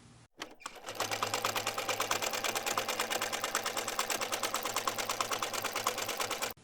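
A sewing machine running a 1/4-inch foot stitches 2.5-inch binding strips onto a quilt, starting with a few clicks and then holding a fast, steady, even stitching rhythm close up.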